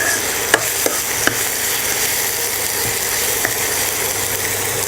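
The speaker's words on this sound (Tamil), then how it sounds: "தக்காளி வந்து நல்லா கிளறி விடணும். அது எண்ணெயிலே அந்த தக்காளி நல்லா வெந்து அப்படியே நல்லா குழஞ்சி வெந்துடணும்." Tomatoes frying in hot oil for a vada curry, a steady loud sizzle running throughout, with a few faint scrapes and clicks as the pan is stirred.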